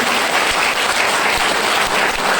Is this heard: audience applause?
yes